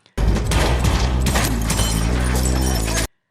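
A dense, loud burst of gunfire from a film shootout, a continuous volley of shots and impacts lasting about three seconds, then cutting off abruptly.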